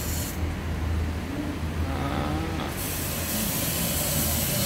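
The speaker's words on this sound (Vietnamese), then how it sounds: "À, cái này chắc nó mới xả nước nè." Automatic car wash spraying water onto a car, a loud steady hiss of jets that rises and shifts partway through, with no talk.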